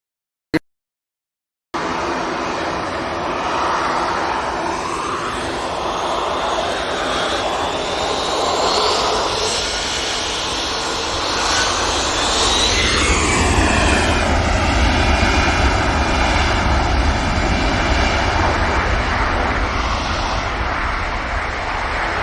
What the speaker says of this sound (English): EasyJet blasting off